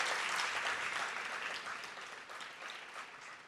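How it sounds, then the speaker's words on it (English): Audience applause for Joe Nappy, State Teacher of the Year, at a teacher awards ceremony, a steady wash of many hands clapping that fades slightly toward the end, with no voices over it. "Let's give him another big round of applause."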